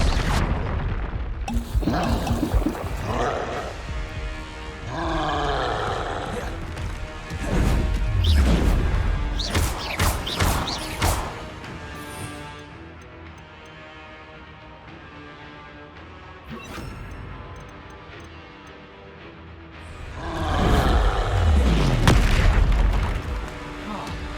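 Combat spells in Hogwarts Legacy: a run of loud crashing blasts, whooshes and thuds, with heavy booms around the middle and near the end, mixed over game music and effects.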